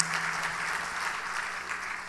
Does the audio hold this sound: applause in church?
yes